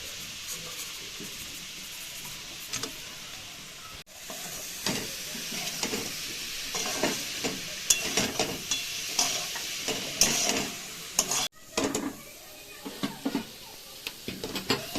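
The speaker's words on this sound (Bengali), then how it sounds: "এটাকে নাড়িয়ে নাড়িয়ে পুরটাকে আমরা বানিয়ে নিচ্ছি।" A spoon stirs and scrapes a sweet patisapta filling with date palm jaggery in a pan, steady rubbing and scraping strokes over a low sizzle, with sharper clacks against the pan toward the end; no talking.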